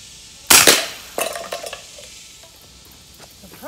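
A Trapmaster gun fires a slug at a can in one sharp, loud shot. A clattering impact follows, then a few lighter metallic rattles that fade out.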